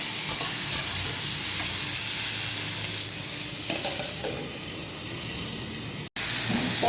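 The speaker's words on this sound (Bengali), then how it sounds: "পটল আর আলু ভাজা হয়ে গিয়েছে।" Pointed gourd and potato pieces frying in a pan, a strong continuous hiss and sizzle with occasional stirring sounds, cutting out briefly near the end.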